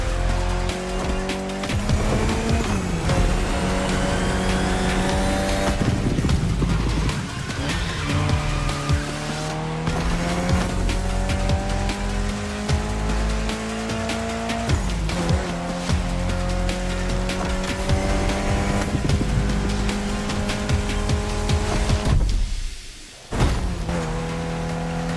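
Race cars in The Crew Motorfest video game scream through the gears, engines rising and dropping with each shift and tires squealing through corners. The sound is loud and continuous, with a brief dip near the end.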